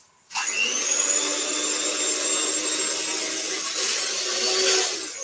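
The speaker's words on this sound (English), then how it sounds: "electric whisk" An electric whisk starts abruptly and runs with a steady high-pitched motor whine, close and loud, holding constant for several seconds in a kitchen.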